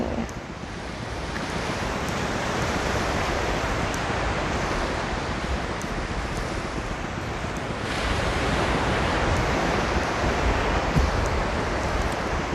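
Sea waves washing onto a calm beach at Prachuap, a continuous broad roar of surf mixed with buffeting wind noise, swelling slightly toward the end.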